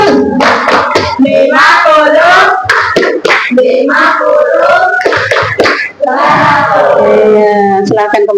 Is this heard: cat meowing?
no